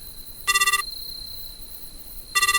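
Phone vibrating in the horror game Midnight Prowl, heard as two short bursts of pulsing, buzzing tone separated by a steady high whine, fairly loud and close.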